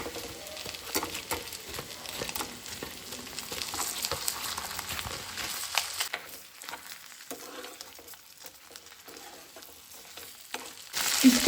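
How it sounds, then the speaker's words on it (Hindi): Fried chicken pieces sizzle with browned garlic in a hot pan, a steady close crackle with brief stirring, swelling into a louder burst of sizzling at the end. "अब हम इसमें डालेंगे फ्राई किए हुए हमारे चिकन पीसेस।"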